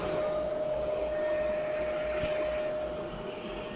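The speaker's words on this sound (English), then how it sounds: "he's activating the vacuum cleaning system. This is just a bit noisy" A Sintratec vacuum cleaning system on a 3D-printing setup at a Formnext trade event runs with a steady, loud whooshing drone and a constant whine, with no talk over it.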